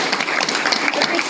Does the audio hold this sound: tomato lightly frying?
no